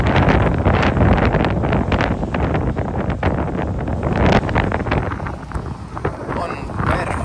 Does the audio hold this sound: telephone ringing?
no